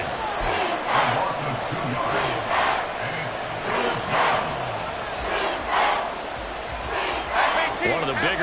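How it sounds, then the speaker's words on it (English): A football stadium crowd cheers and roars ahead of a big third down, a loud, sustained wall of voices that swells in repeated waves across the whole stretch. "The crowd getting into it as we come up on a big 3rd down."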